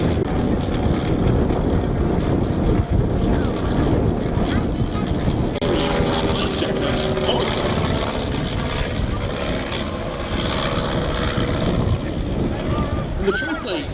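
A WWI triplane performs at an air display, its propeller engine droning loudly and continuously with wind buffeting the microphone and a commentator talking over it.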